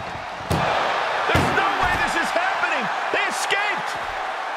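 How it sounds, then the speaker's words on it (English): An ambulance door slammed shut during a wrestling match, with sharp heavy bangs rising over a loud roaring arena crowd, while a commentator talks throughout. "Just close the second door, and victory is yours."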